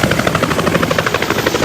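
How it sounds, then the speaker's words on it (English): Scenic tour helicopter in flight, a loud, close, steady rhythmic rotor chop throughout with no voices. "to fly scenic helicopter tours"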